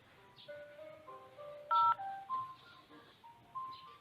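A telephone keypad sends a quick sequence of short, clean dual-tone beeps at moderate volume, with nothing else playing beneath them.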